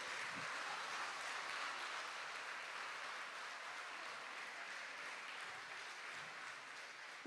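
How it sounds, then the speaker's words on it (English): An audience at a school annual day for grade four and five performers keeps up a steady, dense round of clapping, sustained and even from start to finish. "Let us give a thunderous round of applause to all our performers."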